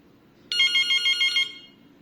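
An ECG-405 corded caller-ID telephone rings with a bright electronic warble, a single burst of about one second rising sharply out of quiet room hum and then cutting off.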